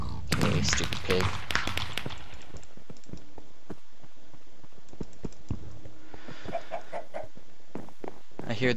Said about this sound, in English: I hear the chicken.